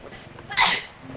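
A single sharp sneeze bursts out mid-clip, close and fairly loud, over a low background of game sounds during a co-op horror game session.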